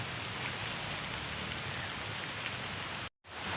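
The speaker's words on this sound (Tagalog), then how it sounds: "Malakas ang ulan." Heavy tropical rain pouring down during rambutan picking outdoors, a dense, constant roar of drops that stays loud and even before a brief cut to silence near the end.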